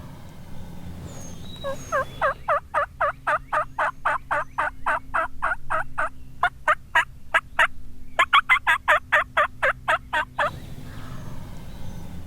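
A wild turkey gobbler gobbles in two rapid, rattling bursts, the second following a short pause. The calls are fairly close and loud, with no talking.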